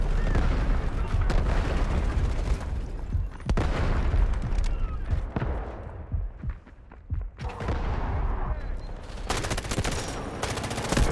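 A K416 rifle in the Delta Force shooter game fires loud, rapid full-auto bursts up close, with a brief lull in the middle before the fast crackling fire resumes.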